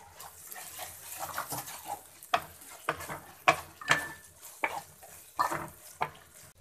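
Chicken cooking in a pan with green chillies and tomatoes being added, with soft sizzling and frying mixed with stirring and scraping sounds, plus a few sharper clinks of utensils against the pan; no talking.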